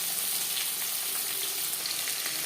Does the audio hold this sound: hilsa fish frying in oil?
yes